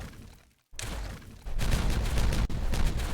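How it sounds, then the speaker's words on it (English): A rapid cluster of explosive charges detonates at once in the Timberborn game, producing a dense, loud rumbling burst that swells and sustains for a couple of seconds after a brief silence. "Excuse me a second while I get them all to detonate simultaneously."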